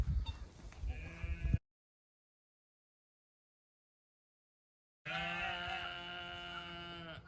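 Sheep separated in a pen before lambing bleat in long, wavering, loud calls, one burst at the start and another after a silent gap.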